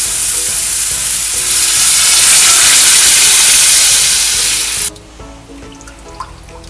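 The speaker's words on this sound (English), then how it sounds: "add water into this" Water poured into a pan of cooking tomato and cashew mixture for malai kofta gravy, a loud steady sizzling hiss for about five seconds that cuts off abruptly, leaving quiet faint bubbling.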